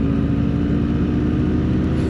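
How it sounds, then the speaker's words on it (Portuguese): A scooter-style motorbike resembling a Vespa accelerating on a California street, its engine producing a steady low, throbbing hum, fairly close, with no talking. "Isto parece uma Vespa, mas é uma... Parece que tem um nome meio italiano."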